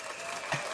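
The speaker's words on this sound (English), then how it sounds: "Hang on, have a clap." An audience claps in a short burst of dense, fairly loud applause, with a slight swell near the end.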